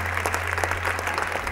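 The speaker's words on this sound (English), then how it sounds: "big round of applause for Yang Berbahagia" Audience applause for a Datuk after a speech at a charity hunger event, a short, dense patter of clapping over a steady low hum.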